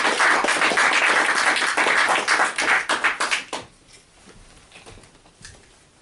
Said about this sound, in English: please give a warm applause for Bradley